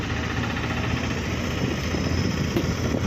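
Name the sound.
tractors idling in a queue at a sugar factory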